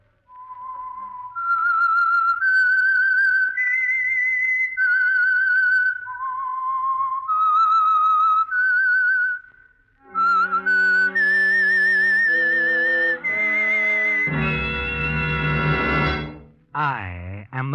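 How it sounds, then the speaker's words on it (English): A lone whistled tune opens The Whistler radio drama's theme in the Signal Oil Program, a clear melodic whistle of rising and falling phrases, then an orchestra swells in loudly with sustained brass-like chords and a bright closing flourish. "That whistle is your signal for the Signal Oil Program"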